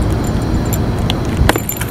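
A bunch of keys jangles in quick metallic rattles beside a car, with a brighter burst of clinking near the end; close and fairly loud, with no talking.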